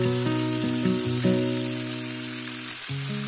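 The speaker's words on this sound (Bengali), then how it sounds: "ফোড়নটা একটু পেকে এলে এর মধ্যে এক এক করে দিতে হবে ম্যারিনেট করা সেই ফুলকপিগুলো" Marinated cauliflower florets hit hot oil with tempered spices and give off a steady, loud sizzle that runs throughout beneath background music.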